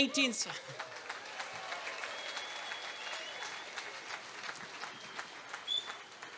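Applause from an outdoor rally crowd after the Independence March in Cardiff, a dense burst of clapping that starts loud and carries on steadily for several seconds.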